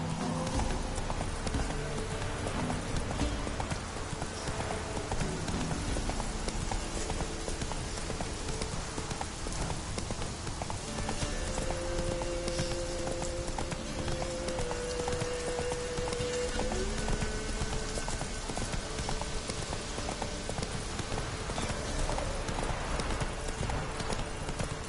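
Horse hooves clip-clop in a steady galloping rhythm throughout, from the Witcher 3 video game, with rain-like ambience and a faint tonal sound layered underneath.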